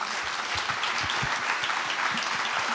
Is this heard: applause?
yes